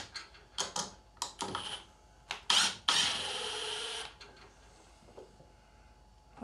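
A 4-inch screw is driven into wood through a counterbored hole with a power driver, heard as short clicking bursts and then a sustained loud whirring drive that tapers off, close up.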